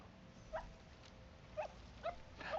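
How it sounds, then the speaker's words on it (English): A puppy in the video game Neva gives four short high whimpers spaced across a few seconds, faint and alone over quiet background. "Puppy!"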